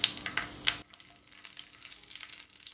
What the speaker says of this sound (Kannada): ಲೋ ಫ್ಲೇಮ್ ಇಟ್ಕೊಂಡು ಬೇಯಿಸ್ಕೊಳ್ಳೋಣ. ಲೋ ಫ್ಲೇಮ್ ಇಟ್ಕೊಂಡು ಬೇಯಿಸ್ತಾ ಇರೋದು.